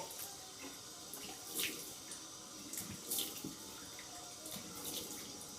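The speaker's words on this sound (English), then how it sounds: "let me rinse my face off with cold water" Cold water runs from a bathroom tap while a face is rinsed after a shave with a vintage travel razor, giving quiet, steady splashing with a few louder splashes.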